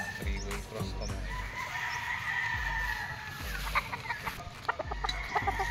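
A Sweater Boston bloodline gamefowl stag at a game farm crows several times in repeated drawn-out calls, with clucking and other fowl faintly behind, at moderate distance.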